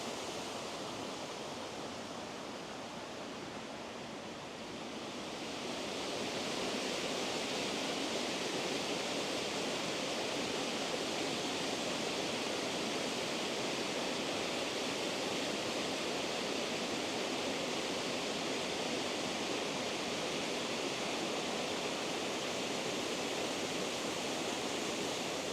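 Waterfall at Glen Mooar on the Isle of Man, a broad, steady rush of falling water that swells after a quieter opening few seconds and then holds constant and full for the rest, with no voices.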